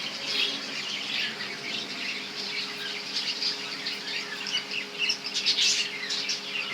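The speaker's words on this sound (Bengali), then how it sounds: "বিভিন্ন ধরনের ঘুঘু আছে" Caged doves and other small birds kept together fill the space with a continuous, moderately close chatter of overlapping chirps and squawks, with no talking.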